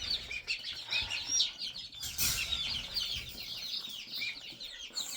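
A small group of Leghorn chickens clucking and chirping near the microphone, with irregular short calls over soft background rustling.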